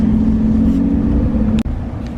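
Steady, loud engine drone and road rumble inside a moving EcoDiesel truck with a choppy right rear, holding an even tone throughout except for a brief dip near the end.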